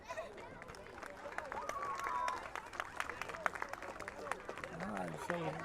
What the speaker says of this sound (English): Let's applaud.